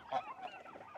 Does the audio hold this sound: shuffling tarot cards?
no